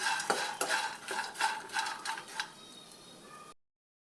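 Stirring crispy corn with pepper powder in a pan: a spoon scrapes and clinks against the pan in a steady run of close strokes, with light sizzling beneath, before cutting off abruptly.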